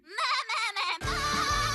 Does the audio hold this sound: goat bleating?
yes